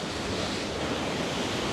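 Steady broadband roar of ocean surf at Granite Bay, Noosa, a continuous close wash of breaking waves with no distinct pauses and no voices.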